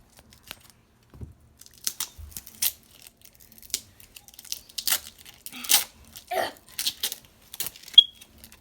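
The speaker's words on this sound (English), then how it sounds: "Had to get the scissors because these are taped in." Scissors cutting open taped slime packaging, a run of short snips, tearing and crinkling plastic up close, irregular bursts with quiet gaps between.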